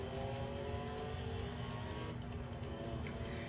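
A Porsche Cayman GT4 engine in the racing game Forza 6 drones steadily at moderate volume, a continuous mechanical hum with faint tire and road noise throughout.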